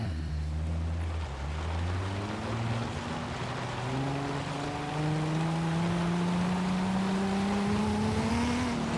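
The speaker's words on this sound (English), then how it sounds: "the engine sounds pretty good considering it's been sitting for a very long time" An old, long-neglected car's restored engine idles and revs steadily in Forza Horizon 5, a continuous droning hum with rising pitch as it runs, clear and alone without speech.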